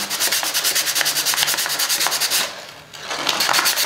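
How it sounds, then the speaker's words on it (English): A GoPro mount rubbed back and forth on sandpaper in quick, even strokes, close and scratchy, pausing briefly before the rhythmic rasping resumes; no one speaks. "So just need to rough this on the sandpaper, and the area will be rough."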